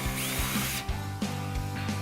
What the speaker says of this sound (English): I'm going to start by drilling a hole in the bottom of a coffee cup.